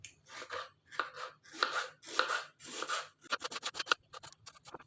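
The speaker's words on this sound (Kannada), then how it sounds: "ಫಸ್ಟು ಆನಿಯನ್ನ ಹೆಚ್ಕೋಬೇಕು. ಇದಕ್ಕೆ ಸಣ್ಣದಾಗಿ ಹೆಚ್ಕೊಳ್ಳಿ, ಹೀಗೆ." An onion is finely chopped with a knife on a board in quick rhythmic strokes, first in short bursts of scraping cuts and then in a fast run of crisp, evenly spaced taps near the end.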